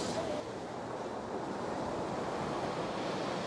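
Ocean waves roll in as foam onto the sandy beach at Pornichet in February, making a steady broadband surf wash with wind noise on the microphone.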